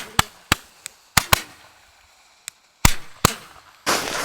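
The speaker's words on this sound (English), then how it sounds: "we got to be quick and quiet with these fireworks" Fireworks go off outdoors at a snowy camp by an igloo snow fort, a string of sharp, loud cracks and pops at irregular intervals, ending in a hissing burst.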